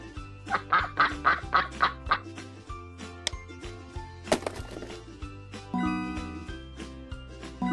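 A cartoon duck quacks in a quick run of six or seven rhythmic nasal calls, loud and close, followed by chimes and playful musical tones in a children's animal puzzle game.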